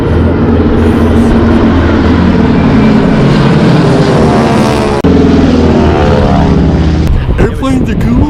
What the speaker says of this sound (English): Airplanes are cool. Just so loud.